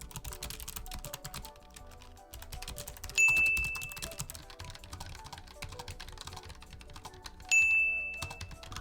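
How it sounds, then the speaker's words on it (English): Rapid, continuous typing on computer keyboards during a typing speed test, the dense clatter of keystrokes running steadily throughout, with two brief ding-like tones rising above it. "let's get started with the typing test"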